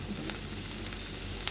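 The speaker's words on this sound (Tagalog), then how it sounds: "Yan, bawang at sibuyas. Panggisa natin" Garlic and onion sizzling in hot oil as a sautéed base for a ground meat topping for macaroni, a steady, close hiss of frying with faint stirring ticks and no voices.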